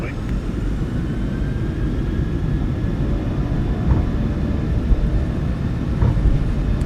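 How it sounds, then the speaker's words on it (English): A PMDG 737-800 in MSFS2024, using the Boris sound pack, sits at takeoff power at Haugesund with its jet engines in a loud, steady, broadband roar that holds throughout, joined by faint whines and thumps. "Takeoff power is set."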